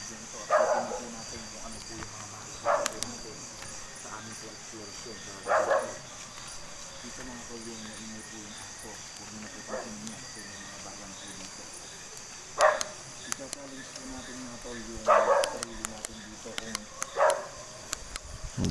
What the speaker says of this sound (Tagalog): Kaya pasensya na kayo kung medyo maingay yung aso.